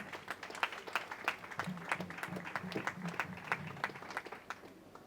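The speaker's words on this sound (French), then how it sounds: "Est-ce qu'on peut acclamer pour le Seigneur, s'il vous plaît?" A funeral congregation applauding in praise of the Lord, a moderate patter of many hands with sharper individual claps standing out, heard from some distance with a faint voice underneath.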